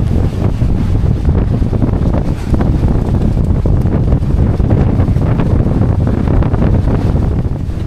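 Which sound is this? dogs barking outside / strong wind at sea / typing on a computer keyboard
strong wind at sea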